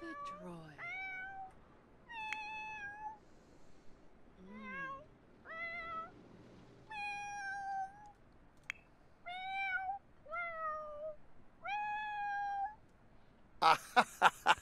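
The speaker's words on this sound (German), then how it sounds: "Ja, du geile Singkatze." A singing cat in The Sims 4 meows in a series of drawn-out, pitch-bending tones, about nine separate calls spread evenly across the span, clear and close, followed by a short burst of sharp clicks at the end.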